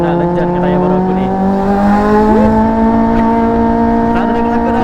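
A Kawasaki Z750 inline-four motorcycle fitted with an Akrapovic exhaust revs up close and loud, holding a strong steady engine tone with one brief rise in pitch partway through.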